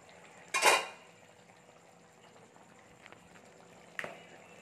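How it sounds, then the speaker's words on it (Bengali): The lid is lifted off a pot of spicy tangra fish curry. One short, bright metallic clatter comes early, followed by quiet simmering and a second brief clink near the end. "এবার ঢাকনাটা তুলে নেব"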